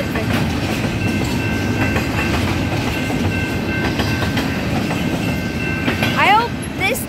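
Union Pacific double-stack freight train rolling past close by, a loud continuous rumble and rattle of wagons with a brief high squeal near the end.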